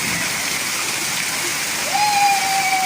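Heavy rain pours down in a steady broadband hiss during family play outdoors, loud and constant throughout, with a brief whistle-like tone entering near the end.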